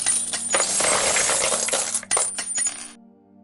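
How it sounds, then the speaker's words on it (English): A shower of coins dropped into a trumpet-shaped collection pot, clattering loudly and continuously for about three seconds, then a few scattered final clinks before settling. "A person wanting to show off could drop lots of coins in, making a very loud clatter."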